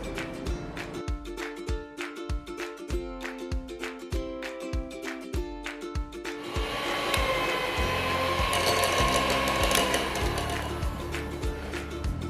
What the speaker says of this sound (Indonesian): mengocok keju dan gula halus.